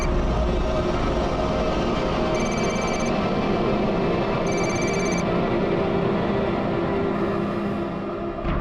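A telephone rings in repeated short bursts over a loud, steady rumble, like the inside of a moving train.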